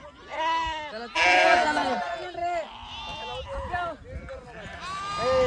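Sheep bleat repeatedly, close and loud, with overlapping wavering calls while a flock is being vaccinated; there is no clear talk.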